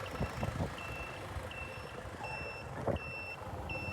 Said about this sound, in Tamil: பேருந்துகள் எல்லாம் புறப்பட்டு கொண்டு இருக்குது